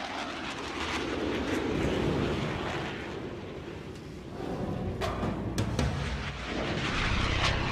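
F-16 fighter jets roar past in formation, a loud, continuous broadband jet rumble that swells and dips over several seconds with occasional sharper bursts, heard alone without voices.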